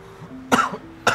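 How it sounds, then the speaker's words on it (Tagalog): Two sharp, harsh coughs from a man with a worsening illness, close by, separated by a short pause, with a faint tonal hum underneath. "Parang malala na po yung ubo nyo."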